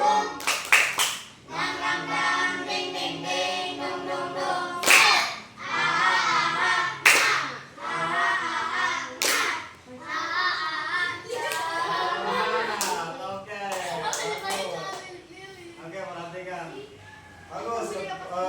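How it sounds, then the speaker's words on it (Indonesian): An Indonesian classroom of students does a rhythmic 'tepuk semangat' clapping chant, sharp bursts of clapping in patterned groups mixed with a teacher's voice and children's chanting. "yuk kita tepuk semangat dulu"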